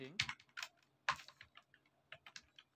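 Code being typed on a computer keyboard: quick bursts of close, crisp key clicks with short pauses between runs, no voice over them.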